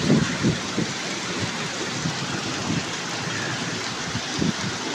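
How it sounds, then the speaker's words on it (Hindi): Heavy monsoon rain pours down on a village street in Pakistan, with rainwater running along the lane; a steady, dense wash of noise with occasional low rumbles and gusts, loud and continuous throughout. "ये असंदी गली की सूरत हाल तुम देख सकते हो कि बारिश का पानी रवान दवान"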